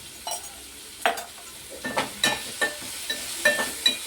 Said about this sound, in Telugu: దీంట్లోకి కొంచెం ఈ ఆనియన్స్ ఫ్రై అవ్వడానికి సాల్ట్ అలాగే కొంచెం పసుపు కూడా యాడ్ చేసుకుంటున్నాను